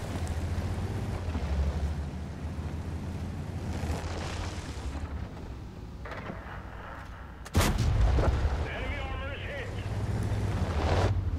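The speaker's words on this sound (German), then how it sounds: "Und da hat man auch gesehen auf die Distanz, wie schnell die Granate ankommt." A tank shell fired in World of Tanks, with a sudden loud booming blast about two thirds through over a constant rumbling engine and wind-like background, followed by a ringing tail.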